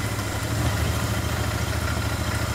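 A Royal Enfield Interceptor motorcycle engine idles steadily up close after a new battery is installed, with a low, even throb and a constant mechanical rumble and no voices.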